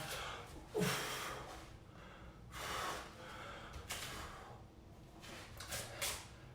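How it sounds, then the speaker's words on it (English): Deep breaths during a home martial arts flexibility stretching session, slow audible inhales and exhales a few seconds apart, close and fairly quiet, with no speech. "Obviously keep breathing like I am."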